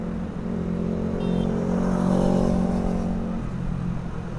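A Kawasaki Ninja motorcycle fitted with a scrambler body passes on the road nearby. Its loud engine drones and swells to a peak mid-way, then eases off, with a steady rumble throughout.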